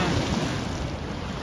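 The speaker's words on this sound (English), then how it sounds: "As you can see, the water is rough." Rough water churns below Barkley Dam in Kentucky with five gates open, a loud, dense, continuous roar with wind noise on the microphone.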